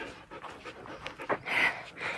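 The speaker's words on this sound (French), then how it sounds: "C'est elle qui fait les bruitages respiration sur cette rando." Heavy, rhythmic panting breaths from a hiker on a mountain trail in the Queyras, close to the microphone, with ragged huffs building louder toward the end.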